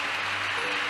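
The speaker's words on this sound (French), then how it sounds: "Alors tu peux acclamer plus fort le Seigneur" Congregation at a church seminar applauding and cheering the Lord, a dense, steady wash of clapping and voices filling the room at even loudness throughout.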